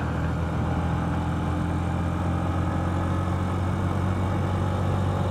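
A 125cc motorcycle engine drones steadily while riding, a constant low hum mixed with broadband road and wind noise that never lets up.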